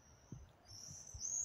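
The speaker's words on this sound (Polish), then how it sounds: "Ale ładnie też mi ćwierka." A small bird chirps faintly from some distance in thin, high calls over soft low rustling and handling noise.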